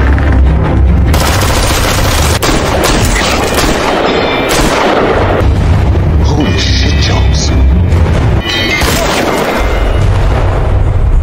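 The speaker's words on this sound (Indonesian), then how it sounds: "Dan pada akhirnya Anton langsung terkena tembakan dan tumbang" Loud bursts of gunfire and booming blasts fill a chaotic film action scene, with dense rapid shots and heavy rumbling throughout.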